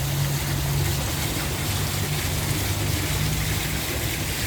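An artificial waterfall at Makkasan railway station in Bangkok pours in a steady, broad rushing splash that stays constant and close, with a low hum underneath.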